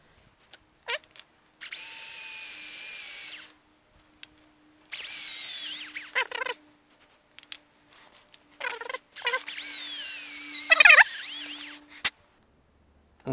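A power drill whirs in several short bursts while working on an Ursus C-360 tractor, starting and stopping with quiet gaps between, close to the microphone, with no talking.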